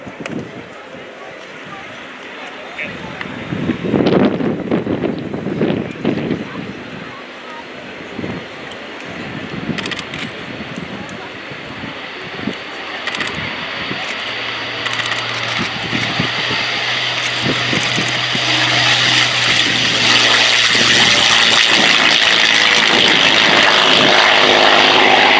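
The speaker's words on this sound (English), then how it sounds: "the aggressive shape of the Messerschmitt" Messerschmitt Bf propeller aircraft making a flypast at an air show, its engine drone building steadily from moderate to loud and close, with crowd and commentary voices underneath early on.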